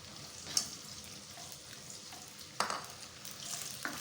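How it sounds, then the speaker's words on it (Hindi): Onions sizzling and frying in oil in a pan for keema aloo karahi, a steady soft hiss with occasional stirring scrapes and two sharper clinks of a spoon against the pot. "अच्छी तरह से इनको फ्राई करें, गोल्डन ब्राउन सा कलर दें।"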